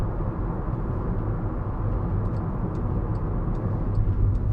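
A 2014 Volkswagen Caddy 1.6 TDI C20 Startline van with ply-lined load area and no sound deadening, cruising on a motorway: steady low engine and road rumble with drumming, a continuous cabin drone and faint ticks above.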